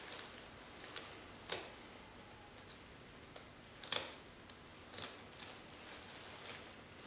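Sharp scissor snips at irregular intervals as scissors cut a walleye during skinning, faint and close, with quiet rustling between cuts and no voices.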